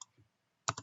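Brief, quiet tapping on a computer keyboard: a soft click at the start, then a quick pair of sharper keystrokes at the end, close and alone in a quiet room.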